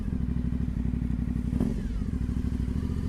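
An Aprilia Dorsoduro 900 motorcycle rides along a road in the rain, its engine a steady, close, throbbing drone with a rapid pulsing rhythm, and faint rattles and a brief thump partway through.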